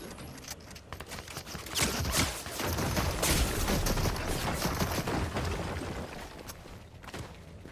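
Fortnite SMG gunfire, rapid bursts of close-range shots clattering over busy game effects for several seconds, loud and continuous through the middle stretch.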